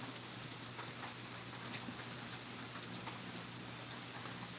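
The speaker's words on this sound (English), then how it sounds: "Oh, it's raining there too." Steady rain falls continuously, a soft hiss of drops spread evenly across the whole stretch, faint and distant with no voices over it.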